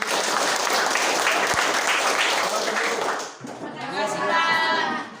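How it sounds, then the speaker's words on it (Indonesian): A crowd at an Indonesian patriotic gathering breaks into loud, dense applause for about three seconds, then the clapping fades as a voice begins speaking. "Oke, tepuk tangan untuk"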